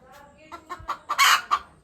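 Chickens near a house cluck in a short burst of sharp, rhythmic calls, several quick notes building to a louder squawk, fairly close, with no talk.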